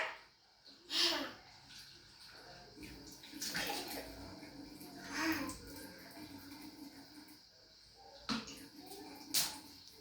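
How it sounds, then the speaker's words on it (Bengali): Children splash water around a bathroom in soft, scattered bursts, with quiet gaps between splashes and faint voices in the background. "পুরা ঘরে জল ফালায় পুরা বিচ্ছিরি করে ফেলাইছে, পুরা ভিজায় লাইছে, বন্যা বানায় লাইছে পুরা বাথরুম"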